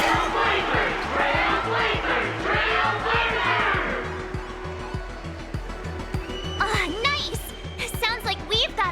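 In Honkai: Star Rail, a game arena crowd shouts and cheers in a swelling roar, then fades as excited voices and scattered cries take over, with rhythmic low thumps running underneath.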